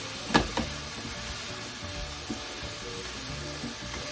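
Onions soften in hot oil in a pan for potato, spinach and shrimp pies, giving a steady close sizzle with a couple of quick stirring clatters near the start.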